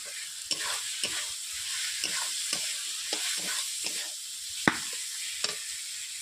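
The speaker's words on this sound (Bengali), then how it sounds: "আমার মশলা কষানো হয়ে গেছে মশলা থেকে তেল ছেড়ে যাচ্ছে" Spice paste sautés in oil in a pan for a mixed vegetable curry, a soft steady sizzle broken by repeated scraping strokes of a spoon as it is stirred, fairly quiet and close.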